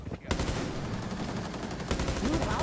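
A rapid burst of automatic gunfire rattles out in a team deathmatch video game, loud and close, opening with a sharp shot and continuing as a sustained volley.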